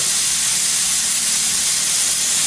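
A loud, continuous rush of hissing steam escapes under pressure from a pressure cooker, steady and close, with no voices.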